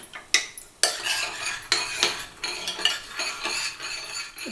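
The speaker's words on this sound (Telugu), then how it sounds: "ఉండలు లేకుండా మంచిగా కలుపుకోవాలి" A spoon clinks and scrapes against a bowl as a milk mixture for fruit salad is stirred briskly, with repeated metallic taps over a continuous swishing.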